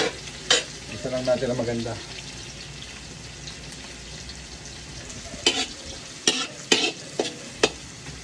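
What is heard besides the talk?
sautéing garlic and onions in a pan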